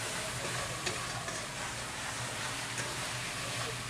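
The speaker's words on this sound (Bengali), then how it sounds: "এটা পুরো বাটারের উপর রান্না হচ্ছে।" Palak paneer ingredients fry in butter in a pan, a steady close crackling sizzle with soft stirring scrapes running throughout, no voices.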